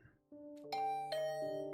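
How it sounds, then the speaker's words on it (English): An electronic doorbell chimes a clear, multi-tone ding-dong in a quiet residential apartment at night, its ringing notes sustained and overlapping, moderately close. "Huh? My doorbell?"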